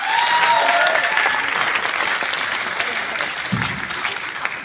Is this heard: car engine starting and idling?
no